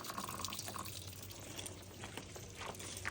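Water pouring out of a punctured milk jug after a broadhead arrow test: a steady splashing trickle with faint drips runs throughout, quiet and outdoors, with no talking.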